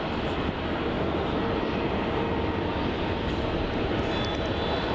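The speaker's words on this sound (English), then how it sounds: "And it looks like we have another Virgin Australia 737 departure off runway 34." A Virgin Australia Boeing 737 departing runway 34 at Melbourne Airport, a continuous broad jet roar holding steady throughout, loud and sustained as heard from a spotting position.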